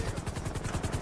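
Simulated helicopter in a flight simulator video game, a steady rotor chop pulsing quickly and evenly under a broad engine whine, loud and continuous with no voices.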